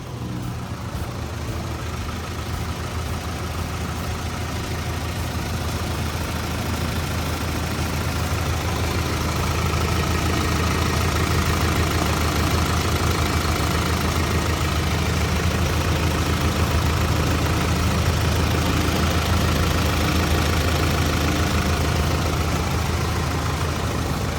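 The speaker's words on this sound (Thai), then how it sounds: "เสียงเครื่องยนต์ของเขาเนี่ยก็จะทำงานได้ค่อนข้างเงียบนะครับ" A Hitachi ZW140-5B wheel loader's Isuzu diesel engine idles continuously nearby, a steady, low constant rumble with a faint mechanical knock throughout and no talking.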